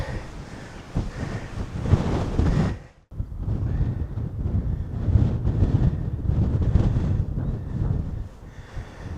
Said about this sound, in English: The wind's a killer though